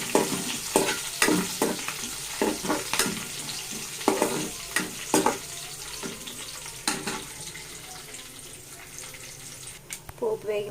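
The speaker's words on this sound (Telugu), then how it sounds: "వేసి ఒకసారి కలుపుకోవాలి." Tempering spices fry in oil as a spoon stirs them around a pan for South Indian sambar: a series of scraping, clattering strokes over a continuous close sizzle, easing toward the end.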